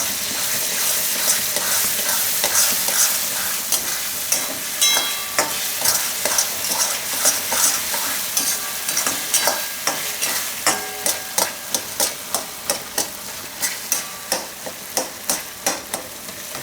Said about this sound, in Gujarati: હવે આમાં આપણે નાખી દેવું આ વટાણા. આને આપણે મિક્સ કરી લઈશું